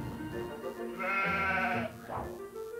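A single sheep bleats in a British countryside setting, a close, wavering bleat lasting under a second with a shorter call just after, over a quiet background.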